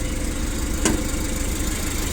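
A Mitsubishi FG20 two-ton forklift with a four-cylinder carburetted petrol engine runs steadily at idle, a continuous close mechanical hum with one brief click partway through, no voices.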